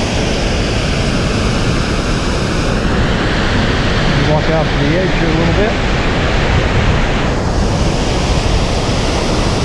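Irish Falls in Yellowstone's Bechler Canyon, where two rivers join, pours as a loud, steady broadband roar that fills the whole scene, with someone speaking briefly over it.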